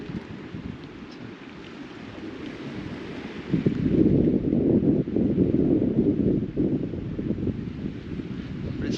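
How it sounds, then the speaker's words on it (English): Wind gusts at Coral Point by the water, a steady low roar buffeting the microphone that swells louder midway and stays rough and rumbling. "Could do with this wind just dropping a little bit."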